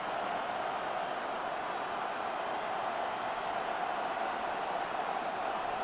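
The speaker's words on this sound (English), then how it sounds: "The crowd at Arrowhead roaring." Broad steady roar of a large stadium crowd at Arrowhead Stadium during a football game, a dense continuous wash of noise without breaks.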